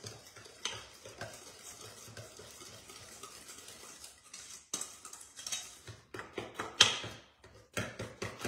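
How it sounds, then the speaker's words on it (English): Dry ingredients are whisked into wet brownie batter in a bowl, giving steady scraping and clinking strokes of a whisk against the bowl. Sharper, louder clatters come toward the end. "I'm going to add the dry into the wet ingredients. So I'm going to whisk them together"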